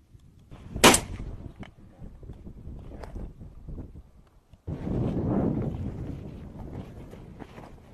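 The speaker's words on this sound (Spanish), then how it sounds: "ha conseguido abatir la pieza de un solo disparo" A single gunshot rings out on a rabbit and partridge hunt in the Spanish countryside, sharp and fairly close, followed by wind buffeting the microphone and faint outdoor rustling.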